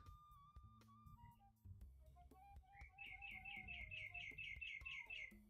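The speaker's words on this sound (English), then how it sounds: "How's that bird outside?" Bird chirping outside: a clear run of quick, repeated high tweets over a steady mid-level background, a sequence of bright chirps coming in succession without any speech.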